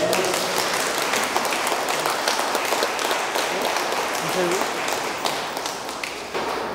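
Wedding guests at the close of a church Mass in Xalatzala, Guerrero, Mexico give the newlyweds steady, full applause in a reverberant hall, with voices murmuring underneath.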